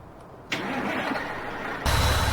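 In Farming Simulator 19, a truck fitted with the big engine starts: a short starter crank swells into a loud, close engine turning over and catching into a rough idle, with no talk over it.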